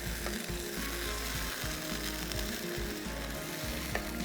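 Ginger garlic paste fries in a pan, giving a low, steady sizzle with faint clicking and scraping as it is stirred, quiet and continuous without speech.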